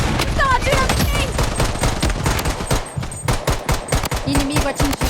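Rapid automatic gunfire from the video game Blood Strike, dense overlapping bursts and shots loud throughout, with a voice briefly heard in the mix.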